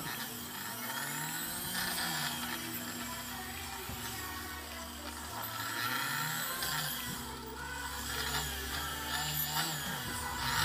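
A rotary tool spins at medium speed with a cotton buffing pad, polishing scratches off a CD, DVD or Blu-ray disc: a steady, fairly loud motor whine with shifting grinding texture, continuous throughout with no talk.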